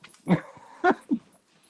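Dogs whimper and yip inside a house, three short whiny cries close to the listener, the first two louder and the last softer, with no talking over them.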